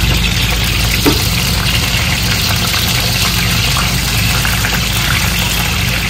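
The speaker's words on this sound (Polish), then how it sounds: "to co bulgocze, to jest woda, która pozostała" Leftover water bubbles and sizzles in a frying pan while chicken in Chinese-style sauce is cooked. The sound is a loud, constant, dense bubbling and hiss with no talk over it.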